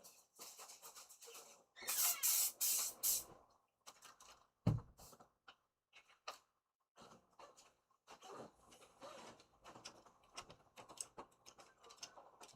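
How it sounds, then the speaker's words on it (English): Spray adhesive hissing from an aerosol can onto a stencil laid on a black shirt, one strong burst of about a second and a half followed by quieter short spritzes and clicks. "spray adhesive on here."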